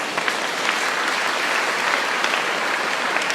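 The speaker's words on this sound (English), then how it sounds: "Let us give them a round of applause." A church congregation applauds in a dense, steady wash of many hands clapping, sustained and fairly loud throughout with no voices standing out.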